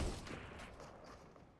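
Gunfire in the battle royale video game Fortnite comes as a brief, muffled burst of shots, fairly faint, at the start of the moment.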